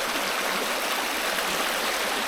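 Stream water rushing beneath a footbridge on Dartmoor's Chagford loop, a steady, close, broadband wash of flowing water with no voices over it.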